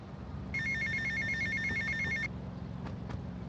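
A telephone rings in the video game GTA Vice City, one sustained electronic trill lasting under two seconds over a low steady game background hum.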